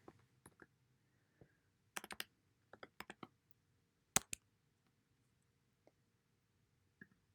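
Sparse key presses on a computer keyboard come as a model number is typed: quiet, close clicks in short bursts with gaps between, over a near-silent background.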